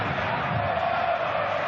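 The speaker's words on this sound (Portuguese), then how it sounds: "E a gente tá ouvindo a torcida do Glorioso." Botafogo supporters roaring in a stadium during a FIFA Club World Cup match against Seattle Sounders, a continuous distant crowd wash with a faint sustained chant line.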